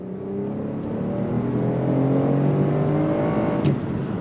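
A naturally aspirated V6 in a 2025 Lexus ES 350 Ultra pulls hard on throttle in sport mode, its engine note rising steadily in pitch and building smoothly in loudness from inside the cabin.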